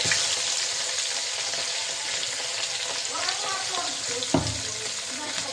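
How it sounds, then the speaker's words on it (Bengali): Rice frying in hot oil with whole black pepper, green cardamom and cinnamon, giving a loud, steady, close sizzle and crackle with occasional stirring scrapes throughout. "চালটা আমি ভেজে নেব"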